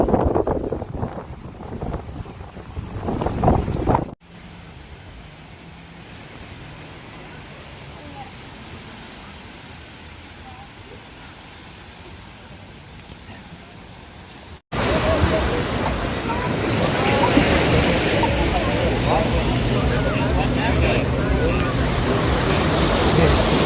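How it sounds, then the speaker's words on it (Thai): Strong wind at Kamala Beach in Phuket buffets the microphone with a constant roaring rush that swells louder in the final stretch, and a voice speaks under the gusts. "วันนี้ลมแรง"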